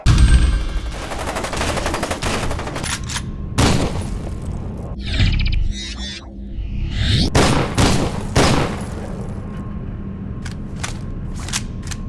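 Shotgun blasts from a first-person shooter video game ring out in several loud, sharp booms spaced irregularly, each with a short crackling tail, alongside quick mechanical clicks of reloading between shots.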